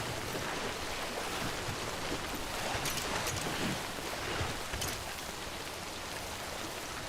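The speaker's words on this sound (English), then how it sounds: "And it's raining, so that's never a good sign either." Steady rain hiss in the video game Death Stranding fills the whole stretch, a dense broadband wash like downpour on water, with a few brief louder splashes in the middle.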